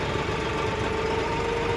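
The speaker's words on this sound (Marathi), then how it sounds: "जरा घात चांगली होती म्हणताना ट्रॅक्टर जरासा आत रानात आला" A tractor engine runs steadily as the tractor enters a farm field, a close, continuous rumbling drone with a faint knocking pulse and no voices over it.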